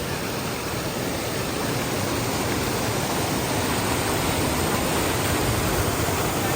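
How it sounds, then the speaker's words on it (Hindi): A waterfall and river by a lake produce a loud, constant broadband rush of falling water, steady and close throughout with no voices over it. "आवाज सुनियो पानि के"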